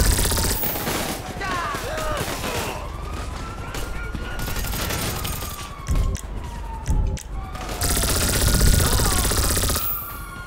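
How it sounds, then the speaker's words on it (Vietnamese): Bursts of gunfire crackle through a chaotic GTA 5 scene, with rapid shots and impacts mixed with rising and falling siren-like wails, loud and dense throughout. "Bắn chết hết tụi nó anh em."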